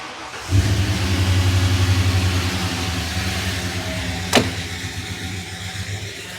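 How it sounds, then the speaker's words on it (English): A Ford OBS crew cab truck engine with a failing, blown engine idles steadily close by, a low even rumble with a faint rapid ticking running through it and one sharp click partway through. "we got a pretty, not a great sounding little tick in the engine"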